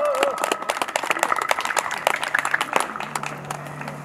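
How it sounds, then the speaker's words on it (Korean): Audience clapping for a festival committee chairman at the Gyebaek martial arts festival ceremony: scattered, irregular claps over about four seconds at moderate distance, with a brief voice at the start and a steady hum underneath. "큰 박수로 환영해 주시기 바랍니다."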